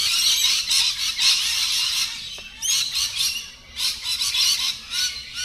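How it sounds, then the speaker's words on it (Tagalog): Loud, continuous squawking from several birds nearby at a campsite in Australia, harsh calls overlapping in bursts with brief pauses, no voices. "Ang mga ibon ay maiingay."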